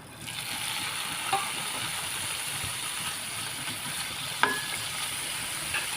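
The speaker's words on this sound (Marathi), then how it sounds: "कमी तेलामध्ये फ्राय करायचं आणि आता हे पनीर फ्राय करायला घेते" A steady, even hiss comes from paneer frying in a small amount of oil, broken by a couple of sharp clicks as the pieces are moved in the pan.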